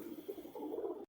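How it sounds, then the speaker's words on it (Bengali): Male pigeon with a blue-sheened neck and an upright crest, cooing in a low, rolling murmur that swells and pulses through about a second before cutting off. "এটা হচ্ছে নর পায়রা।"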